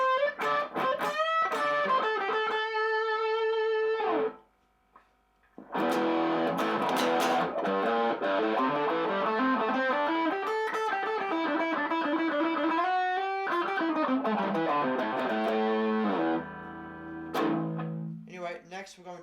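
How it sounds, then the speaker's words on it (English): Gain-driven lead tone from an Artist LP59 electric guitar through a NUX amplifier: sustained distorted notes and bends in several phrases, loud and close, with a short pause near the middle and a lower chord at the end. "Next, you've got more of a gaining kind of lead sound"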